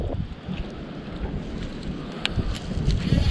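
Wind buffets the microphone on a cold, blustery winter day of bass fishing at Gardys Mill Pond in Virginia, giving a low, rumbling roar that swells toward the end, with no talking.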